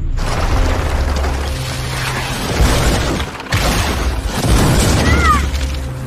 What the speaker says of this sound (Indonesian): menembaki meriam ke arah mereka